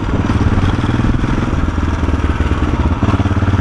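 A motorcycle engine runs loud and close, a steady throbbing idle with a rough mechanical clatter.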